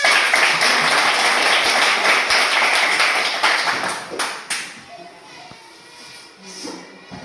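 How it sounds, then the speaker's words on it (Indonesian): Classroom pupils clapping hands together in a dense, loud burst of applause that thins out and fades over the last few seconds, with faint voices under it. "Oke, tepuk tangan."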